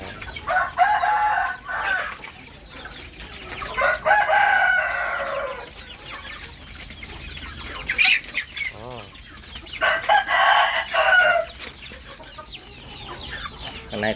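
Young domestic chickens, three to four months old, with a rooster crowing in repeated bursts close by, alongside clucking from other birds in a farmyard pen.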